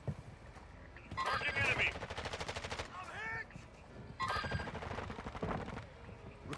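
Call of Duty Warzone gunfire comes in two loud bursts of rapid automatic shots separated by quieter moments, with voices talking between and under the firing.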